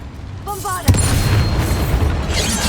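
A Bombarda explosion spell detonates in Hogwarts Legacy, a loud booming blast followed by a sustained rumbling roar of debris and noise.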